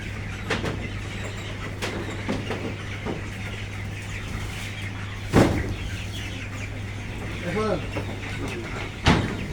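Poultry chickens cluck intermittently in a shed over a fish pond, over a steady low hum, with a few sharp knocks and faint voices in the background.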